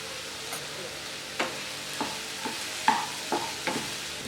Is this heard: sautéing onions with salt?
yes